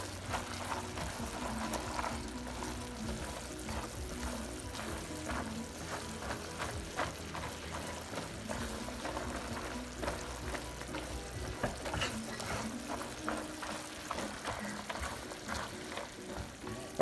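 Thick pecan candy mixture bubbles and sizzles in a hot pot while being stirred, a steady close crackle with occasional spoon scrapes and soft popping throughout.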